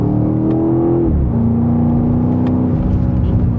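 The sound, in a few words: 2026 BMW X5M Competition accelerating in Sport Plus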